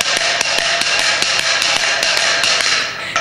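A six-mallet wooden matraca rattle at a carpenter's workshop in Alquézar, struck hard, gives a rapid, loud series of sharp wooden clacks in a steady rhythm close by, with no talking.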